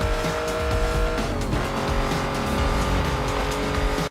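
A race car screams at over 200 miles an hour in Need for Speed Most Wanted during a police pursuit, the engine loud and steady with a brief pitch dip as it shifts into sixth gear, accompanied by tire squeal.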